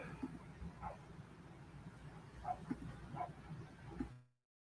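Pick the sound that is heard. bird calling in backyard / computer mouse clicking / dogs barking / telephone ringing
dogs barking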